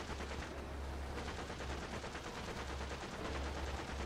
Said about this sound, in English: Up, Gunner! Shoot him!